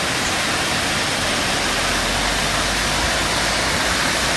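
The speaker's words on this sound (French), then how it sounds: "Regardez, donc ce sont les cascades" The waterfall cascades at Baume-les-Messieurs pour out a dense, constant roar of rushing water, loud and unbroken from start to finish.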